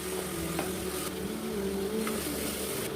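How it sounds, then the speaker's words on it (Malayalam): Ginger, garlic, curry leaves, salt and garam masala are stirred in a hot pan for beef paya soup, producing a moderate steady sizzle with a faint background hum and a few light utensil clicks. "ഉപ്പും ഗരം മസാല ഇട്ട് ഇളക്കി കൊടുക്കുക."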